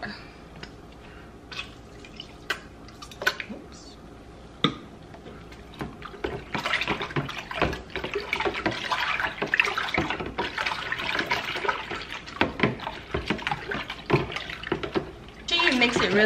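Hair dye is stirred into water, giving irregular sloshing and splashing that grows busier and louder partway through, with dripping and a voice talking over it.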